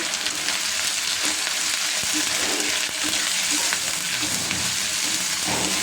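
Chicken pieces, washed beforehand and seasoned with ginger paste, fry in hot oil with a steady, dense sizzle and crackle. Occasional pops and stirring knocks come through, and no one speaks.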